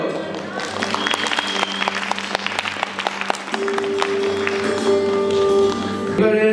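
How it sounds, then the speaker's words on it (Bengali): An audience claps at a Baishakhi music event, a dense sustained patter of applause near and loud, with a voice and tonal background sounds under it. "একটু আর একটু হাততালিও।"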